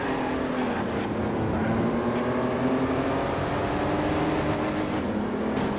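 A racing car engine from the PS2 game Alfa Romeo Racing Italiano gives a loud, steady revving drone that holds through the whole stretch, with slight rises in pitch and no talk over it.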